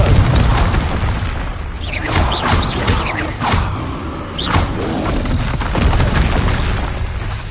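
Explosive blasts from the Confringo fire spell in a PS4 video game, several booming bursts with whooshes at irregular intervals over steady game noise.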